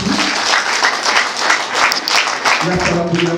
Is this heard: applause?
yes